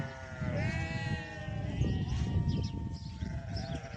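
A sheep bleats in long wavering cries, close and clear, with further bleats overlapping against a low rumbling background, in Saudi Arabia.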